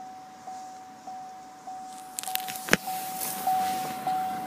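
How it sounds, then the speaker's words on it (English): Electric windows on a Vauxhall Insignia run in repeated short motor whirs over a steady tone inside the car, followed by a few clicks and a thunk as a window seats. "Has full electric windows"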